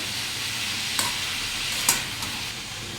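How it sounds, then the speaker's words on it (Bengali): Ash gourd with chopped tomato and chili being stirred in a sizzling pan, a steady fry hiss with a couple of sharp spatula scrapes against the pan, no voices. "লঙ্কা দিয়ে টমেটো কুচি দিয়ে চাল কুমড়োটা দিয়ে নিয়েছি, নাড়াচাড়া করছি"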